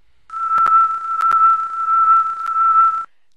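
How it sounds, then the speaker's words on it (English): A steady high-pitched electronic whistle tone from the Elmo's Preschool video game holds for about three seconds, broken by a few sharp clicks. "That's a cool whistling sound effect."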